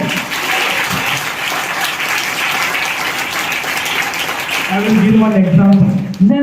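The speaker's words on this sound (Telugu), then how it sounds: "గట్టిగా చప్పట్లు కొట్టండి." A church congregation claps loudly and steadily in dense, continuous applause, with a voice rising over it near the end.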